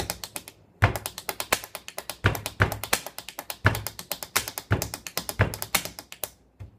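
Pen drumming on a hard surface, played as rapid double strokes: dense, crisp, woody taps in quick pairs with steady accents, close up and alone.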